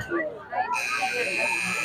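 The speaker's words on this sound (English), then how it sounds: "you hear that buzzer. That means halftime has officially concluded" An electronic buzzer sounds at a high school football game to end halftime, a steady sustained tone entering partway and holding to the end, heard behind speech at the start.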